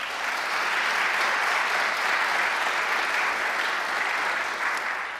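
A large audience at a governor's event on higher education applauds in a dense, sustained wash of clapping that holds at an even level throughout without pause.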